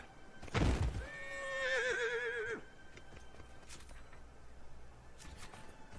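A horse in the video game Dragon Age Inquisition gives one loud, close whinny with a wavering neigh lasting about two seconds. A thud comes before it, and a low rumble and quiet noise follow.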